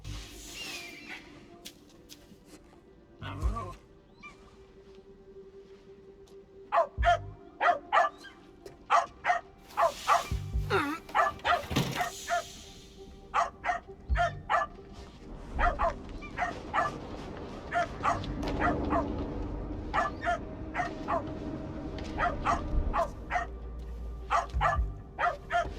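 A dog in the stealth game Assassin's Creed Shadows barks over and over in sharp, clustered bursts against a low ambient hum, with short yips and whines between the barks.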